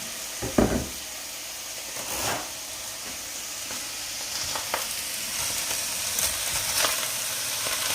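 Steady sizzling and frying in a soup pot after vegetables are dumped onto browned meat for borscht, with a few clunks and stirring knocks over a continuous hiss.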